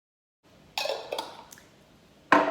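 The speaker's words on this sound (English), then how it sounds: "a shot of Kahlua, and give that a mix" A White Russian of vodka and Kahlua is stirred in a glass, making a few sharp clinks and swishing scrapes that come in separate bursts after a short silence, close and clear, with no talking.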